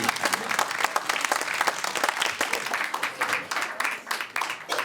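Municipal council members break into steady, dense applause in a council chamber during an extraordinary session, filling the room with sustained clapping throughout.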